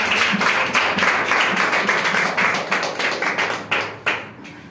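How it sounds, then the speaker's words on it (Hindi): An indoor audience at a health products presentation breaks into loud, steady applause. The dense clapping runs on for several seconds and then thins out toward a few final sharp claps. "तो एक बार जोरदार तालियां बजाइए।"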